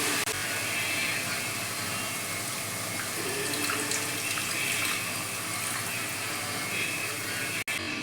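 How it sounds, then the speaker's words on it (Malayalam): Water runs steadily from a tap into a pot of pineapple sesame curry, a continuous broad gushing rush at even loudness with a brief break near the end. "കുറച്ചും കൂടെ വെള്ളം ചേർക്കട്ടെ"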